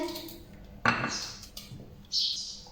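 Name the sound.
knife finely chopping onion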